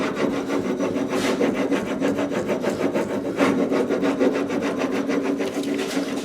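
Steady scraping and rubbing of a veneer hammer pressing book-matched veneer onto glued wood, worked from the center outward, a continuous rasping sweep with rhythmic strokes, close up and with no talking.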